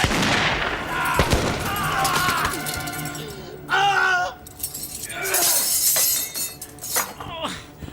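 Sharp gunshots ring out in a period naval drama, several close reports spaced among shouting voices and clattering, glassy debris.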